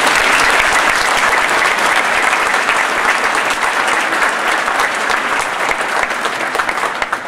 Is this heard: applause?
yes